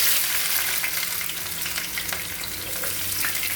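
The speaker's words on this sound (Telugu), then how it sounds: "తర్వాత ఉల్లిగడ్డ వేసుకుందాం." Onions frying in sunflower oil with mustard seeds and cumin give a dense, continuous crackling sizzle, close and fairly loud, with occasional stirring noises and no talk.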